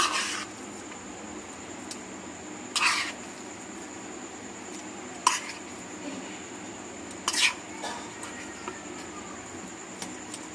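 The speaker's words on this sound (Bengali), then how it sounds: "এই পুরটা এর মধ্যে একটুখানি মিশিয়ে নেবো ডিমের সাথে" Mashed potato filling being mixed with egg in a bowl for a Bengali Mughlai paratha, soft stirring with a few sharp clinks of a utensil against the bowl, quiet and close, no talk.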